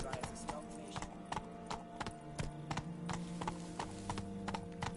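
A horse being ridden in the video game The Witcher 3: Blood and Wine, its hooves clip-clopping in a steady trotting rhythm, close and clear, under game music and ambient tones.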